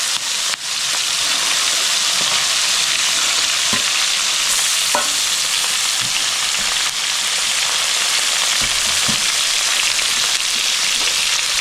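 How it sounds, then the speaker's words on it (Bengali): Large prawns fry in hot oil in a pan for a Bengali prawn curry, a loud, continuous hissing sizzle with a few faint utensil taps throughout. "একবারেই ভেজে নেব।"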